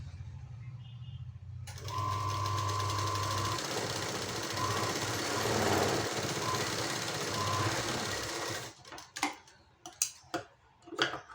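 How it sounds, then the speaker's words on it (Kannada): Tailor's sewing machine running steadily as it stitches fabric along a neckline and side seam, a continuous mechanical whir with rapid ticking for several seconds, then stopping and giving way to a few separate knocks and clicks. "ಮೂರು ಹೊಲಿಗೆನ ಹಾಕ್ತಾ ಹೋಗ್ಬೇಕು."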